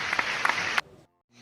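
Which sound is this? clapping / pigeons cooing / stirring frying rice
clapping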